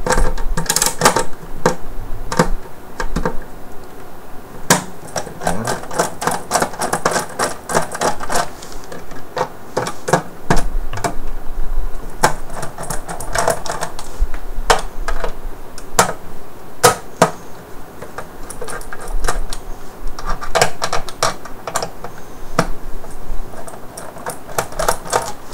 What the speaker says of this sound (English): So I'm going to take my screwdriver here and go ahead and take those out.